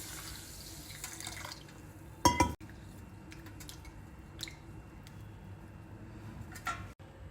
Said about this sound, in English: First we'll wash it with plenty of water 2 or 3 times.